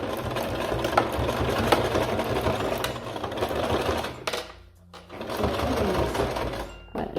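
A sewing machine runs steadily as it stitches a seam on a fanny pack. The close, continuous mechanical whir dips briefly near the middle, then resumes.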